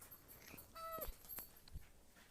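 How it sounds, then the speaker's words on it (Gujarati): A dog whimpers near a temple, one thin rising-and-falling whine followed by faint yips and small shuffling noises, quiet and close against a soft outdoor background. "આ તોફાની કૂતરો પાછો હોઈ ગયો"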